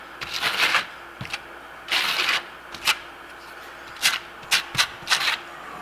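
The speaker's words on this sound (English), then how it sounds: "I'm just gonna go back and get some of these trowel marks out of here" A steel trowel smoothing Marmorino Venetian lime plaster on a wall, close and fairly loud, in rhythmic scraping strokes, longer passes at first and then several short quick swipes, with no voices.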